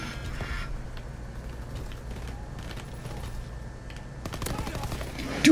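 Call of Duty WWII gameplay with the PPSh-41 submachine gun rattling in rapid, sustained bursts at moderate loudness, amid in-game clatter and a sharper flurry of shots near the end.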